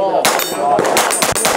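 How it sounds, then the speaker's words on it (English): A miniature AR rifle fired in a rapid string of sharp, close shots with metallic clanks, loud and quickly emptied, with no speech. "So let's just shoot it and see what this feels like."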